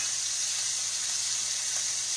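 Pork loin sears in a hot pan with a steady, even sizzling hiss, close and constant, with no voices over it.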